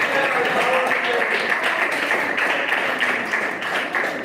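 Congregation applauding in a church: steady, dense clapping from a crowd fills the room, loud and continuous for several seconds, with faint voices mixed in.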